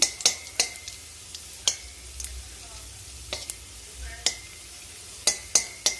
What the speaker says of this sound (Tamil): கொஞ்சமாக போட்டு ஃப்ரை பண்ணிக்கிறேன்